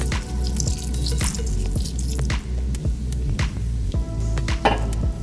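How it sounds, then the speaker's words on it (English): Red wine from an Israeli bottle poured into a hearty stew pot, a steady trickling, dripping liquid stream running continuously and close, with no voices. "we're gonna add a little bit of red wine."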